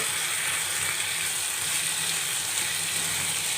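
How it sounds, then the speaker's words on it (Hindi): Fenugreek leaves with green chillies fry in a pan for aloo methi salan, giving a steady, even sizzle that runs unbroken throughout, close and moderately loud with no talk. "मेथी को अच्छी तरह से भूनेंगे।"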